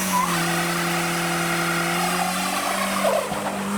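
A Volvo turbo diesel truck doing a burnout, a loud steady engine drone with a sustained tire skid and squeal running throughout, the revs dipping briefly near the end.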